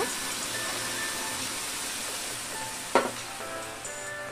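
Panch phoron spices sizzling in hot oil in a pan while making ghugni, a steady soft crackle with one brief louder clatter partway through, close and fairly quiet.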